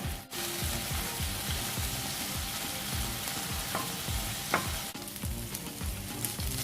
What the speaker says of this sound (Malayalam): ചിക്കൻ ഫ്രൈ ആയി വന്നിട്ടുണ്ട്.